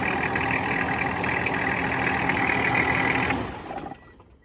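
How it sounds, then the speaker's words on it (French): A Nissan Patrol Y61 engine runs at a steady idle nearby, a continuous even drone that cuts off abruptly near the end, leaving a short fading tail. "Le moteur il tourne super bien"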